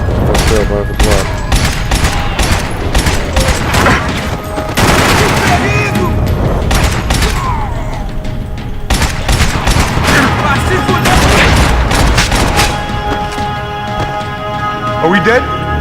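Rapid Glock pistol gunfire in the video game Max Payne 3, with dense repeated shots and booms continuing through a loud firefight, mixed with game voices and effects.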